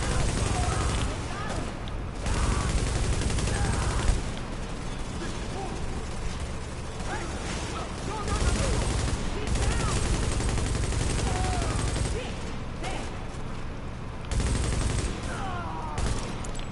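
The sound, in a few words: light machine gun firing in The Division Underground video game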